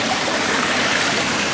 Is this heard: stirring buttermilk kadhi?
no